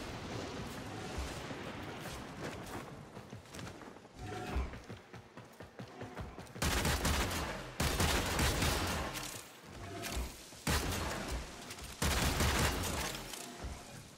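Rapid gunfire bursts from the video game Warframe, played as Mag, with long loud volleys that stop and start over a background of game effects and mechanical clatter; no talking.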